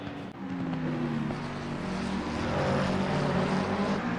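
A Chevrolet Camaro GT3 race car in a racing game at Mount Panorama gives a steady, droning engine roar that rises slowly in pitch. It is loud and continuous, with no talk over it.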